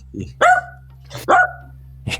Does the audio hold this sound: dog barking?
yes